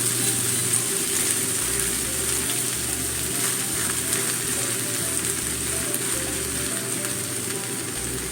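Cabbage pancake cooking under a lid in a covered pan, giving a steady, continuous sizzle and hiss that holds even throughout, with a faint mechanical hum beneath and no voices.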